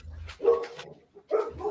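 Labrador dogs bark in two short bursts, fairly close and moderately loud, with a brief pause between them and no talking.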